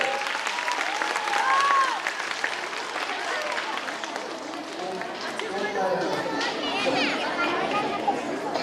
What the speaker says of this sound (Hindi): बच्चों के लिए ताली बजाइए